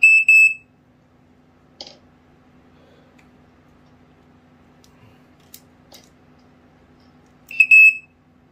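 Black & Decker SMK 6D smoke alarm under test, two short piercing beep bursts separated by a long quiet stretch with faint clicks and handling noises in between.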